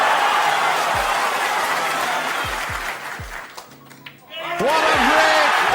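A snooker crowd applauds Ronnie O'Sullivan's maximum break with sustained, loud clapping and some cheering, later thinning out before renewed noise, as a commentator talks over it.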